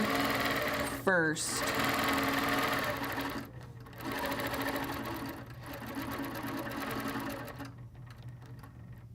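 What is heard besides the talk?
sewing machine stitching a quilt design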